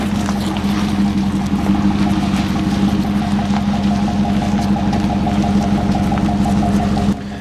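A 6.2-liter V8 engine in a 2013 GMC Sierra Denali pickup idles with a steady, deep rumble throughout, continuous and fairly loud.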